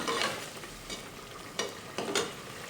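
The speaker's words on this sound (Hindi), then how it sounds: "फ्लेम हमने हाई कर देनी है और इसको अच्छी तरीके से हम भून लेंगे।" Mutton with green chillies frying on a high flame, a constant close sizzle with the scrape and knock of a spoon stirring the pan in short bursts.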